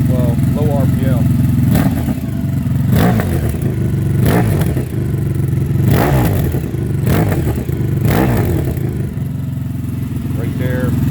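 A Honda VFR 1200F V4 motorcycle engine, fitted with an ECU tune, idles at low RPM with a loud, deep, throbbing grunt that holds steady throughout while someone talks over it.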